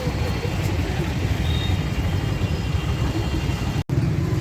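Busy Delhi road traffic heard from close by, a steady dense rumble of car and truck engines with occasional revving that runs throughout, broken by one very brief dropout near the end.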